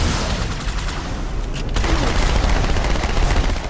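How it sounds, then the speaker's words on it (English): Rapid gunfire in the Halo 2 video game, a dense, loud fusillade of automatic shots and impacts hitting the player, continuing without pause and swelling louder in the second half. "I'm seriously letting it shoot me right now."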